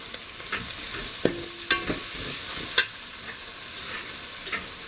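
Chopped capsicum stir-frying in a pan for Kerala-style beef fried rice, with a continuous close sizzle and a few distinct spatula knocks and scrapes spread across it, no voices.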